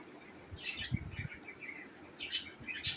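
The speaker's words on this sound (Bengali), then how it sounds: "ও পাখিগুলো আমার দেখা ভয় পাইছে, ভয় পায় উপরে গেছে।" Pet birds in a cage, faint chirps and tweets in short bursts with soft rustling and low thumps of movement, heard close but quiet.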